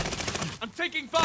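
Video game shootout gunfire, a rapid automatic burst at the start, then a brief lull with a player's voice, then more firing resuming at the end.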